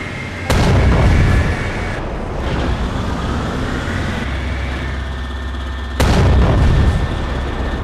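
A Stalin 7 tank gun fires in the Minecraft Flans Mod video game. Two loud, heavy booms land about five seconds apart, with a steady rumbling hum between them.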